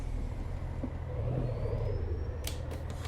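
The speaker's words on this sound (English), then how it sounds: "The truck freaking sounds awesome, man." Kenworth W900B truck engine in American Truck Simulator, a steady low diesel rumble with a faint rising whine and brief hissing bursts near the end, continuous and close.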